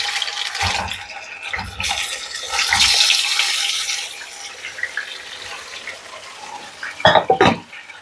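Chicken wings dropped into hot oil give a broad, steady sizzle and crackle that swells early on and then settles, with a few sharper bursts of spattering near the end.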